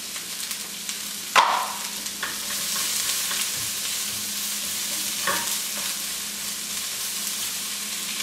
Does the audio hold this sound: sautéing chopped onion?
yes